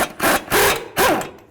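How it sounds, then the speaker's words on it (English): A ratchet wrench with a 21mm socket loosens the front lower ball joint nut on a 2006-10 Dodge Charger in close, repeated bursts of clicking and grinding with short pauses between them. "Next, we're going to remove this ball joint nut with our 21mm."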